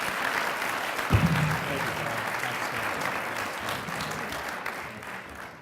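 Audience at an annual research lecture applauds in a steady, moderately distant round of clapping, with a brief thump early on and low murmurs underneath.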